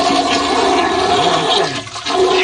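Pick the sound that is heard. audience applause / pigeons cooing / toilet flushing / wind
toilet flushing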